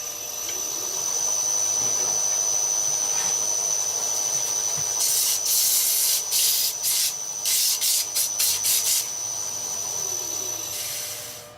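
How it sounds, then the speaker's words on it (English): Sandpaper rubbed by hand over burned wood in a workshop, a steady raspy scrubbing that breaks into a series of quick, loud back-and-forth strokes over a constant hum. "Let's see what sandpaper does to it."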